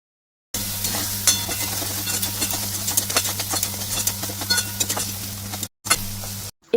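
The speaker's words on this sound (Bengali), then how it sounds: "এবার ওই মশলাগুলো দিয়ে বেশ ভালো করে কষিয়ে নেব" Spices sauté in a pan for paneer pulao with a continuous close sizzle, while a spoon scrapes and stirs in irregular strokes, and the sound cuts out briefly near the end.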